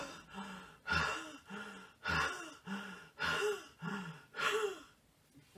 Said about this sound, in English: we just breathe in and out as if we were perhaps an athlete having come upstairs